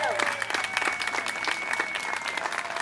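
A crowd claps and cheers steadily at an outdoor playground ribbon-cutting ceremony at a park, dense and sustained applause with voices mixed in throughout.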